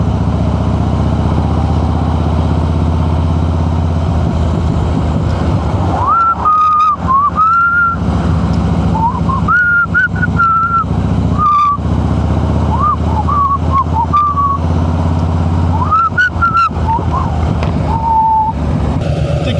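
A motorcycle on a tour around the Baltic Sea runs steadily in a lower gear, its engine droning loudly and continuously, with rising and falling revs heard up close throughout.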